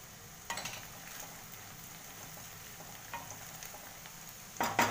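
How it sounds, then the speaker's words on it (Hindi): Asafoetida goes into a pan of frying onions, giving a faint, steady sizzle with a few soft stirring scrapes and a louder clatter near the end. "प्याज हो गया है, अब इसमें मैं हींग डाल दूंगी।"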